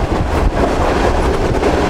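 Shalimar Express passenger train rolling along the rails past Sarhad station, a steady, loud rumble of wheels and carriages with a faint clickety-clack, heard from on board and with no voices.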